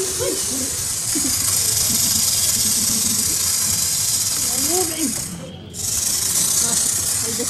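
A snake exhibit at the Guinness World Records Museum in Denmark gives off a loud, steady hiss that runs almost the whole time and breaks off briefly near the end, with people's voices talking underneath it.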